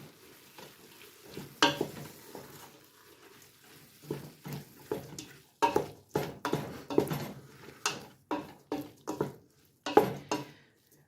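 Spices are stirred into chili with onion in a pot, giving a series of scraping, sloshing strokes in an irregular rhythm over a soft sizzle, close and moderately loud.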